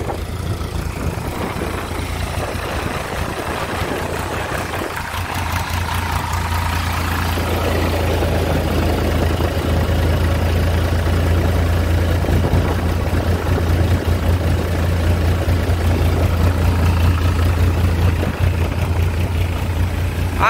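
A Natraj thresher driven by a tractor runs on sesame, giving a steady, loud low engine drone and mechanical rumble that continues throughout with no talk.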